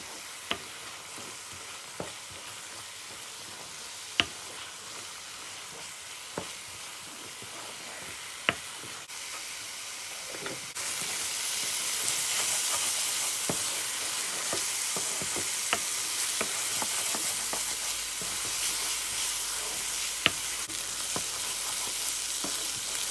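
Lentil daal with turmeric frying and being stirred in a pot, a steady close sizzle with scattered spoon scrapes and taps throughout, the sizzle growing louder and brighter about halfway through.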